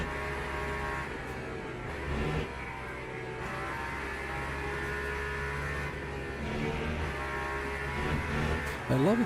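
In a racing sim video game, a car engine hums and revs steadily at moderate loudness, with its pitch rising and falling through shifts and a brief surge near the end.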